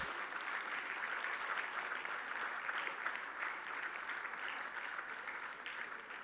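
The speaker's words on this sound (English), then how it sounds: "A huge round of applause for all our AHA anchors." A large school audience at the Anandam event in Gurgaon applauds the AHA anchors, a steady, even wash of many hands clapping that holds for several seconds, heard at some distance and fairly soft.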